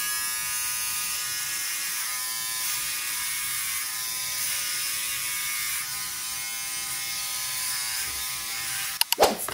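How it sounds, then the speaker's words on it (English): Continuous buzzing hum of an electric shaver trimming a neck, steady and close for several seconds before a brief clatter at the end, with no voices. "an essential part of preparation for the competition is shaving Ephraim's neck"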